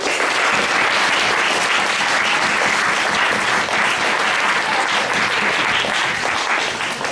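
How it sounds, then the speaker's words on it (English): Sustained audience applause at a student common room executive election hustings, dense and steady throughout at full strength, with no one speaking over it. "can we all give the candidates a round of applause?"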